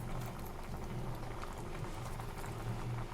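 A pot of sweet jaggery pudding (gudugina huggi) with cashews, almonds, raisins and cardamom bubbles at a gentle simmer, a continuous soft burbling and popping held at low, even volume.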